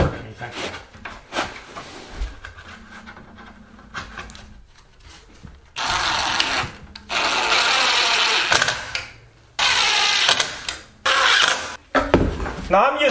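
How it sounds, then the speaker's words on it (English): Short, loud whirring bursts of an impact driver driving pocket hole screws into lumber come in repeated spurts, separated by quieter pauses with light handling noises, close by. "Now I'm using my impact driver,"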